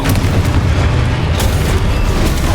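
A Confringo fire spell bursts in Hogwarts Legacy combat, a loud, dense explosive boom with rumbling low end that fills the short moment and carries on without pause or voices.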